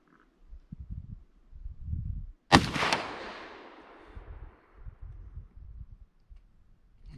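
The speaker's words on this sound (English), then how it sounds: "Shooting through some weeds" A single sharp shot from an M1 .30 carbine rifle fired outdoors through weeds and brush, a loud crack with a long fading echo, surrounded by quieter low rumbling before and after.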